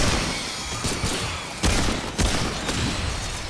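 Slow, spaced gunshots from a weapon in the video game Remnant 2, several loud broadband cracks a second or so apart over a steady noisy background, with no talking.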